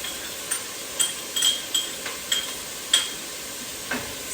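Finely diced garlic cloves sizzle with onions in a pan for white chicken chili, a steady frying hiss broken by a series of sharp clinks from a utensil against the pan.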